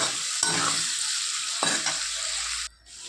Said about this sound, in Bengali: এদিকে দেখো ওই তেলের মধ্যে আমি পেঁয়াজ ক্যাপসিকাম টমেটোটা দিয়ে দিলাম, হালকা শ্যালো ফ্রাই হবে।